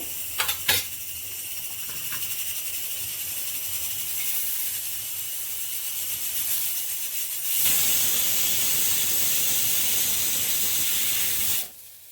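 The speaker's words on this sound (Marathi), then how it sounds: "पलीकडे कुकरच्या शिट्या होत्या चिकन टाकलेले आपण त्याला पण तीन शिट्टी द्यायची आपल्याला तर पहिली शिट्टी होते" A pressure cooker holding chicken on a home kitchen stove lets off a long, steady, loud hiss of escaping steam that runs for several seconds and then cuts off abruptly, with no talking over it.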